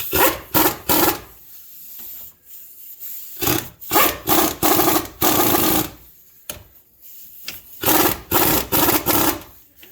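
Pneumatic impact gun driving in the bolts on a new wheel bearing of a 2008 Chrysler Town and Country, sounding as several loud, close bursts of rattling hammering separated by short pauses.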